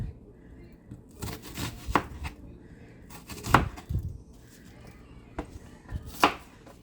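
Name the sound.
knife chopping leek on cutting board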